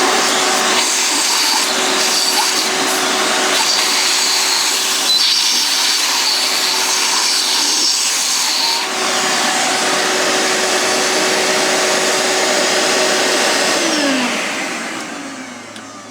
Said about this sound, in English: recommend just using a small shop vac. Turn it on its side so it's facing downward. Turn that on and